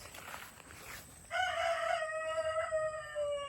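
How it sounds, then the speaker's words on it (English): A single Sumatra rooster crow rings out, starting mid-clip after a faint, quiet stretch, loud and drawn out with a strained, rasping tone. "I also have a couple of roosters over here. These are our Sumatra roosters."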